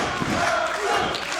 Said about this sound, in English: Crowd getting riled up by Kirk as this match is getting underway